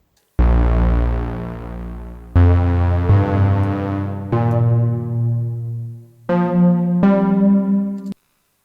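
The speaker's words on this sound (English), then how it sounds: "make a really nice dark sounding pad keys type sound" Dark analog-style synth pad keys patch built in Serum, playing a slow sequence of sustained, rich chords with smooth morphing tone, each chord ringing for one to two seconds before the next, loud and alone with no voices.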